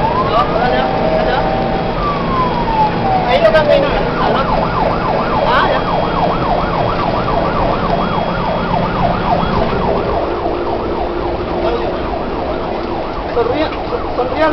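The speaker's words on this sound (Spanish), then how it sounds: "¿Dónde está el sonido de la sirena?" Fire truck siren from a fire brigade unit in Futrono, Chile, wailing steadily and loudly over a running engine as the truck sets out on a call, with people talking over it.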